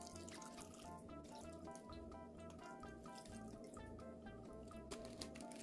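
About 1.3 litres of water poured into a pot for stew broth with anchovy stock, bok choy and soft tofu; a faint, steady trickle and splash with light bubbling, no voices.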